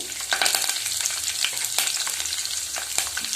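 Mustard and cumin seeds splutter in hot oil for a rice tempering, a busy sizzle punctuated by sharp, irregular crackling pops close up, with no talking.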